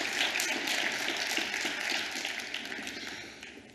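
Audience applause at an ANC policy conference: a dense, steady wash of many hands clapping that gradually fades.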